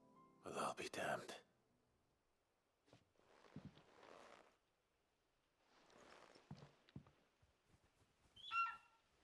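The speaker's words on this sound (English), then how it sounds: "Birds." Birds sound in the Final Fantasy XVI video game, with sparse, quiet chirps and fluttering bursts separated by near silence, including a clear call at the close over soft rustling steps.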